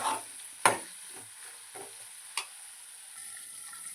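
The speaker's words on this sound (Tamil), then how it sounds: "ஒரு நிமிஷம் அந்த எண்ணெயிலே கொஞ்சம் வதங்கட்டும்." Bitter gourd sautés gently in oil over low heat on a stove. A soft, steady hiss runs underneath, broken by a few sharp clicks and taps of stirring.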